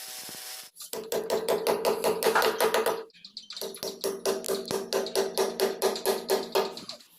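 Repeated steady hammer strikes on anchor bolts while building a low-cost frameless pergola, about two blows per second in two long runs separated by a short pause, close and loud with no talking.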